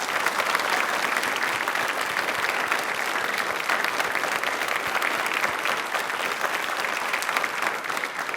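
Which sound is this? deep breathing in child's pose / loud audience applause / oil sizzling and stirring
loud audience applause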